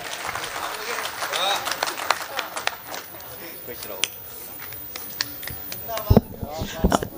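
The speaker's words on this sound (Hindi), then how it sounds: "जोरदार तालियां बजा दीजिए।" An audience at a Hindi humour poetry gathering (kavi sammelan) applauds in uneven bursts. Voices and a spoken announcement run over the clapping, and a few sharp claps stand out near the end.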